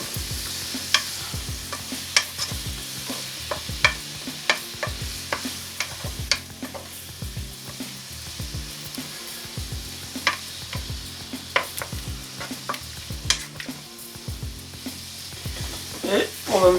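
Chicken and Maroilles cheese frying in a pan are stirred with a utensil: a steady close sizzle runs throughout, broken by repeated scraping and clacking strokes against the pan.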